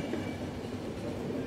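Steady rumbling train noise from The Final Station video game, a continuous low clatter of a moving rail car with no talk.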